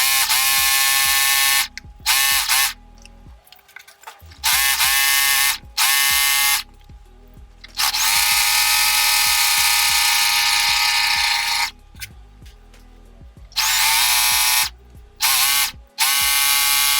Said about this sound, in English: I'm going to use the Singer machine because that's the fastest one I have.